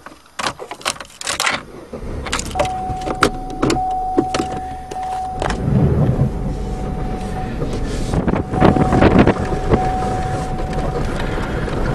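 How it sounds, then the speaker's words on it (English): A 13 horsepower Honda pressure washer runs steadily at a washing station as mud, dirt and tree debris are blasted off old Chevy cars, a continuous loud hiss and rumble with a sustained whine and intermittent spray bursts. "a good pressure washing with 13 horsepower Honda power"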